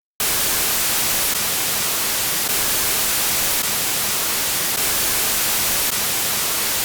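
Steady, loud hiss of broadband white noise that begins abruptly and continues unchanged to the end.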